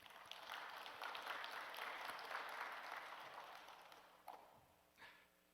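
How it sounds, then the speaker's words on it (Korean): A church congregation applauds during a Sunday worship service, a full round of clapping that gradually thins and dies away, heard faintly and at a distance. "만왕의 왕께 영광의 박수 돌리겠습니다."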